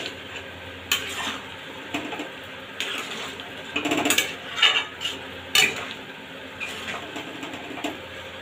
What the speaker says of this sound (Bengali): খুব ভালোভাবে এটাকে মশলার সাথে মিশিয়ে দেবো।